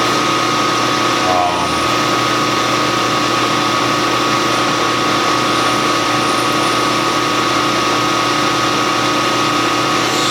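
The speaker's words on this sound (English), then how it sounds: "We want to center drill it down to where we get a good nice chamfer." Lathe center drilling a metal part, a loud steady whine of the running machine with a constant high tone, a short shift in pitch near the start, then an even hum.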